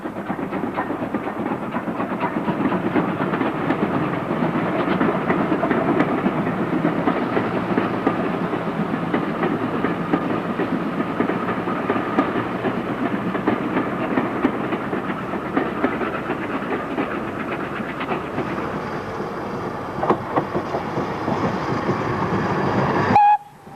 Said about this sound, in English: the unmistakable outline of the Gooch 422 travelling on Brunel's original broad gauge main line